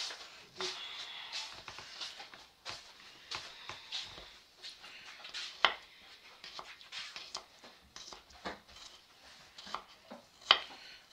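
Garlic cloves minced with a knife for a beef, potato and cheese gratin: quick, uneven taps of the blade on a board, soft and close, with occasional louder knocks and no voices.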